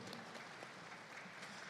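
Faint, distant applause from an audience for the Indonesian coordinating minister at a social welfare event, a steady soft patter of many hands lasting the whole moment.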